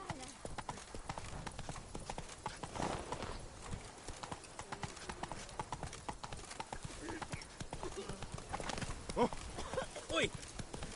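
The horse Roach from The Witcher 3 trots along with steady, rhythmic clip-clopping hooves, close and clear, with voices speaking over the hoofbeats at times.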